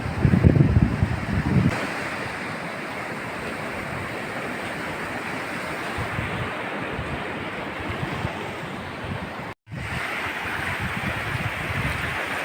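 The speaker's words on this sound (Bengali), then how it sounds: "আমি এখন বিচ দিয়ে হেঁটে যাচ্ছি, এক অসামান্য সুন্দর অভিজ্ঞতা।" Ocean surf at Kudle Beach in Gokarna, Karnataka, a continuous broad wash of breaking waves with wind buffeting the microphone, steady and fairly near, with no voices.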